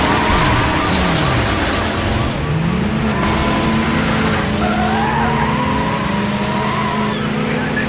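A Porsche Carrera GT in a Need for Speed police-chase game skids to a stop with loud sustained tire squeal and roaring engine, a dense continuous racket throughout with overlapping whine sweeps.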